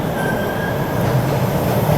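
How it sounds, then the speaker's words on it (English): A train rolls past close by, a loud steady rumble with a high metallic wheel squeal fading in and out. "everyone's favorite time of the show is when the train shows up"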